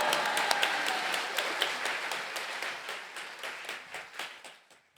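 Church congregation applauding to welcome a pastor to the pulpit, a dense wash of clapping with scattered sharper claps that slowly thins and fades over about five seconds.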